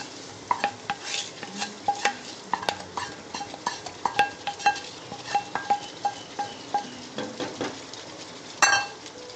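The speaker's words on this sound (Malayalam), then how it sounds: "അതിൻ്റെ മേളിൽ കൂടെ നമ്മൾ അത് നമ്മൾ ഉണ്ടാക്കിയ താളിപ്പ് ഇങ്ങോട്ടിടുകയാണ്." Chicken curry gravy with tempering poured in is stirred in a pot, a spoon clinking and knocking against the metal in a steady rhythm over a faint sizzle.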